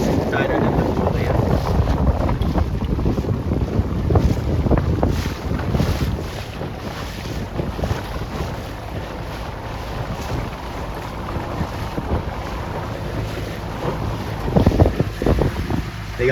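Steady wind rushes over the microphone across open water where 29er, C420, FJ and skiff sailboats race, a constant loud roar with gusty swells and brief louder bursts near the end.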